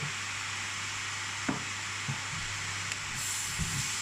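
Bolognese sauce with paprika frying in a pan sends up a steady, close sizzling hiss, broken now and then by soft stirring knocks and scrapes, with no talking.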